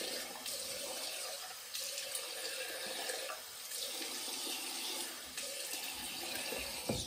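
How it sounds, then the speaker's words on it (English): Tap water running steadily into a sink while alum is rinsed off after a shave, a continuous faint splashing hiss with small shifts in flow. "Rinsing the alum off."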